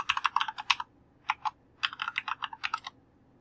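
Mac login password typed on a computer keyboard: quick bursts of light clicking keystrokes in three clusters with short pauses between, close and clear with no talking.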